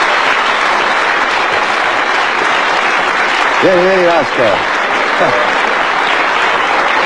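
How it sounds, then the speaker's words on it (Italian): A TV studio audience applauds a guest's arrival on an Italian variety show, loud continuous clapping throughout, with a brief shouted voice over it midway. "Noi facciamogli un applauso,"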